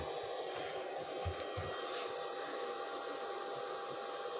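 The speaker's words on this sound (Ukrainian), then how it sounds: "До 40 градусів тільки що ось включився вентилятор на повну мощність і охлаждає" The cooling fan of a Foval 2200 W power inverter runs at full speed, a steady close whooshing hum with faint low thumps early on, without any talk.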